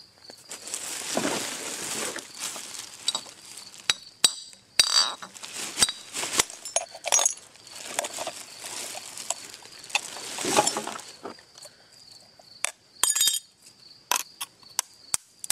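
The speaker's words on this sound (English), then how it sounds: "I'm going to break the bottle" Glass bottle being smashed to make cutting tools: sharp cracks and bright tinkling shards scatter in irregular bursts, some loud and close, with clinks of glass pieces settling between hits.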